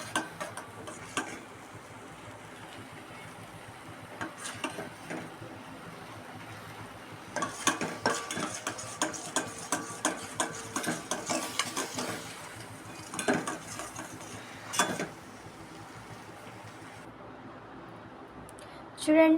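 A spoon scrapes and clinks in a small container while stirring a creamy lip balm mixture of vaseline and ghee, with beetroot and carrot. The ticking strokes come close, irregular and steady, heaviest in the middle stretch, with a voice talking at times.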